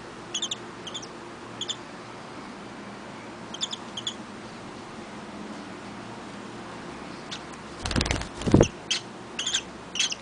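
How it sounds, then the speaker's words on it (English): Pet birds give sparse, faint high chirps and tweets in a quiet room, with a brief louder rustle or thump near the end. "My pretty birds."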